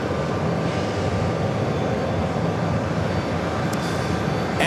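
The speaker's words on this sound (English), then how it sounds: "It's that Delta Flight 209 coming up from Edinburgh. 767-300 ER." A Delta Boeing 767-300ER airliner at JFK, a steady broadband jet engine roar holding constant throughout, loud and sustained, with no talking.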